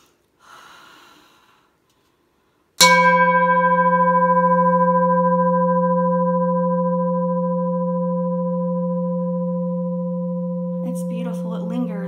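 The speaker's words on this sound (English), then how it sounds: "So I'm gonna like just hit the bowl so you can see really not only the sound frequency, but the frequency of the sound will remain and carry" A singing bowl is struck once with a sharp attack and then rings on alone as a steady, slowly fading tone with clear overtones, with faint breathing before the strike and a voice entering at the end.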